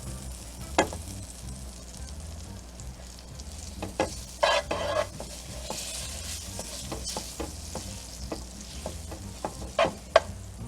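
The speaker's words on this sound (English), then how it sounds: "And once this butter melts, it'll be time to fry it up." Monte Cristo sandwich frying in melted butter in a pan, a soft steady sizzle broken by scattered clicks and scrapes of a utensil, close and quiet with no talking.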